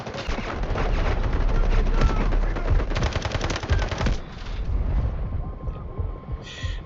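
Rapid automatic gunfire rattles in loud sustained bursts in the Delta Force video game, dense and continuous for several seconds before tapering into quieter scattered shots and game ambience.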